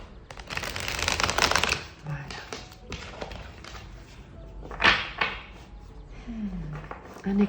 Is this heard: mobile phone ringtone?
no